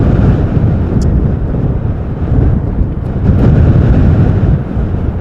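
Loud, continuous wind buffeting an outdoor microphone under a small tent cover at Schiphol Airport during a storm, with rumbling low gusts that swell and ease steadily throughout.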